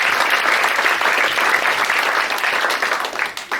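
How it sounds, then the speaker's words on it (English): Audience applause at a roast event: a dense, steady wash of clapping from a large crowd that thins out toward the end, with no speech over it. "Round of applause for our last roast tonight"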